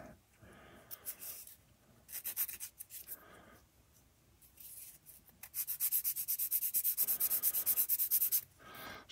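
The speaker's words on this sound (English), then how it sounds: "Sand them back." Small plastic parts from an HK Models 1/48 B-25J kit are sanded by hand in short scratchy bursts, ending in a long rapid run of rhythmic back-and-forth strokes, close and alone.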